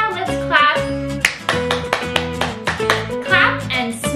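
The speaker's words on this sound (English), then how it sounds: "now let's clap" Hands clap in a steady rhythm along with a children's song for toddlers and preschoolers, the claps mixed under bright music and a sung voice.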